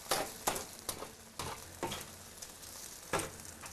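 Tomatoes frying in a pan while being stirred: a soft sizzle broken by a run of regular spatula scrapes and taps, close up with no voices.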